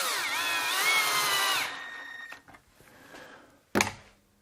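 A power sander works over wooden work-support parts with a loud, dense whine for about a second and a half, then winds down. A sharp knock follows in the quiet that comes after.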